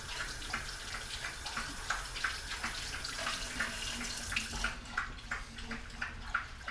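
Tap water runs steadily into a kitchen sink while hands are washed, a continuous splashing rush with small irregular spatters, close and moderately quiet, no talking.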